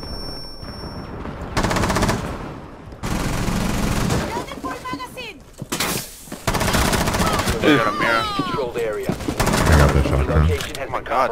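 Bursts of automatic gunfire and single shots in the video game Rainbow Six Siege, loud and rapid in clusters separated by brief pauses, with voices talking at times.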